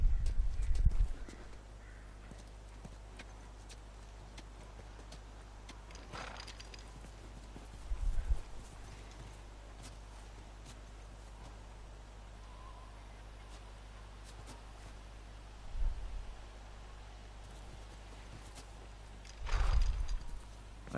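A horse in the video game The Last of Us Remastered makes sparse, low clip-clop hoof sounds in separate short bursts against a quiet, steady background hum, with no speech.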